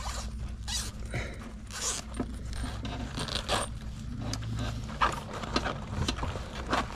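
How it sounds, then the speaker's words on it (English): Zippers on a sewn DIY Zippak bag are pulled apart in a run of quick raspy bursts, close and fairly quiet, with faint handling clatter. "you can pull these zippers apart."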